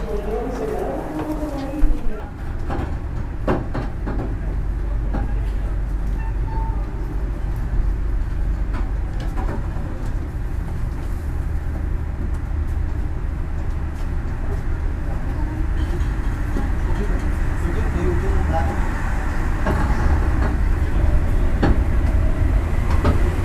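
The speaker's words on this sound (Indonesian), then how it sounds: "Kereta api Mutiara Timur sudah diberangkatkan kembali" The Mutiara Timur passenger train departs from a station in Indonesia, a continuous heavy rumble of rolling wagons and wheels on rail, with pigeons cooing nearby and people talking over the noise.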